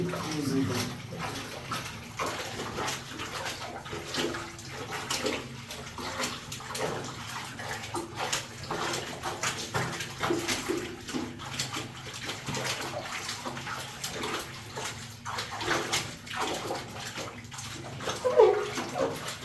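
Running water gushing back on from a tap, a continuous splashing, sloshing stream, fairly close and steady for a long stretch, with faint background voices.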